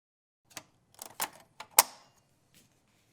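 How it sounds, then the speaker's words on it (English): A computer hard drive cradle snaps back into place with a few sharp plastic clicks, one louder final snap, close and alone in a quiet room. "firmly click the cradle back into place"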